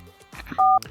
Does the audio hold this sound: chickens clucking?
no